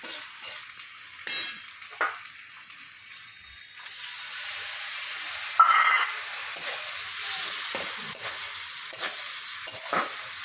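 Lightly fried fish in a pan. Scattered soft clicks and stirring sounds give way midway to a steady, close sizzling hiss that continues to the end with a few sharper pops.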